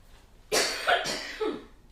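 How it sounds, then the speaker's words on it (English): Two or three harsh coughs in quick succession, close and fairly loud, with no talking. "I'm going to cough, I'm sorry."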